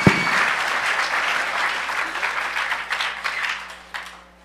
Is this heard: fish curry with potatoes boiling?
no